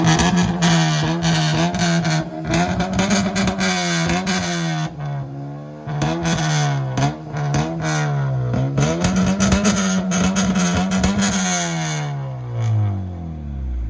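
A Honda Civic fitted with a Mugen kit exhaust, heard from outside the car, revs up and down repeatedly with a loud, rising and falling engine note that ends in a long climbing rev.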